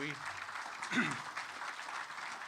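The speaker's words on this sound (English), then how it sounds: "I think they need a round of applause" An audience claps for the board members standing at a partnership summit: a dense, steady wash of applause throughout, with a brief voice rising over it near the middle.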